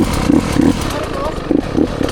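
A Husqvarna 150 motorcycle engine revs in rough pulsing bursts up close, with clattering and a person talking over it.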